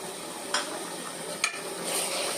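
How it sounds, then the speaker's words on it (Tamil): Chicken with spice powder and yogurt is stirred in a pan for thalappakatti biryani, giving a soft, steady scraping and mixing texture with two brief clinks of the utensil against the pan. "நல்லா மிக்ஸ் பண்ணி இதை நல்லா கொஞ்சம் வேக விடுவோம்"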